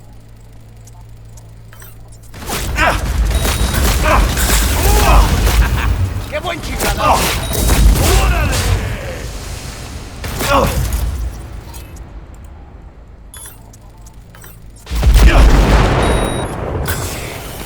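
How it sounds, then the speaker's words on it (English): Explosions in a shooter video game played on an Asus ROG NUC (2025) gaming PC, loud booming blasts with rumbling debris, one burst after another and a final heavy blast, as someone speaks briefly. "Let's do a little explosion"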